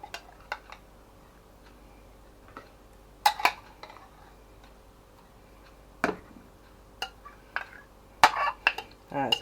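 Dishes and cutlery clink and clatter sporadically while bolognese with gnocchi and cheese sauce is served into a bowl, with scattered sharp taps amid quiet background.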